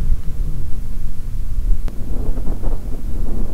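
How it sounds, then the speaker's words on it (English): Wind gusting across a golf course in Germany, a steady heavy roar buffeting the microphone with low rumbling gusts throughout, loud and close, with no voices. "That wind is blowing."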